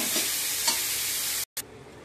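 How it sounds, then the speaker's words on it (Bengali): Cauliflower florets stir-fry in a pan with a bright steady sizzle and a couple of soft stirring scrapes, cut by a short silent gap before the hiss resumes. "কপিগুলো এখানে ভালো করে ভাজা করে নেব।"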